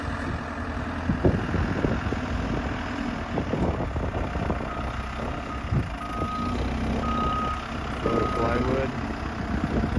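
Reversing beeps repeat at a steady pace from a truck being unloaded on a building site, with the engine rumbling and clattering underneath and people talking nearby.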